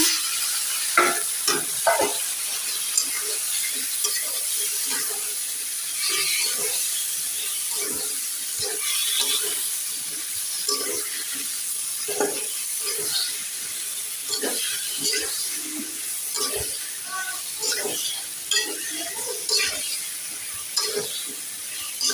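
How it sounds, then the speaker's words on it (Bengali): Vegetable curry with onion and spices sizzles in hot oil while a spoon scrapes and stirs the pan in irregular strokes, a steady close frying hiss broken by clattering stirs, with some running water faintly behind. "তরকারিটা সুন্দর করে কষিয়ে নিচ্ছি"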